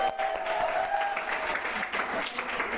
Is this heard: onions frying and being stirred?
no